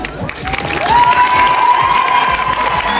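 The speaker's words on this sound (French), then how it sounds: "Très grand, applaudissements vraiment." An audience at a school talent show applauds and cheers loudly and steadily, with shouts and whistles rising above dense clapping throughout.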